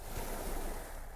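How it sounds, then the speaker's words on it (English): Soft ocean waves wash over a pebble shore, a quiet, steady rolling wash with faint wind, heard alone. "while waves wash over the pebbles"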